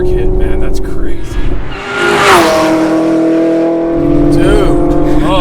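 A Hennessey Chevrolet Camaro ZL1 1LE HPE 750 roars hard under acceleration, its engine note loud and close inside the cabin and climbing through a gear change, with excited voices talking over it.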